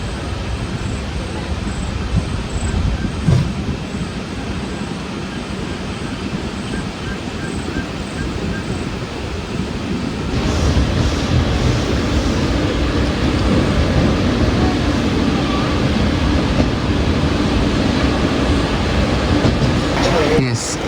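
The Kannur Jan Shatabdi pulls into Kozhikode railway station, a steady rumble of wheels and carriages rising louder midway, with broad station noise around it.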